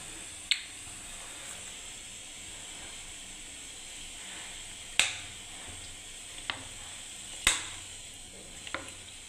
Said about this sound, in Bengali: এবার আমি তেল ঢেলে দিচ্ছি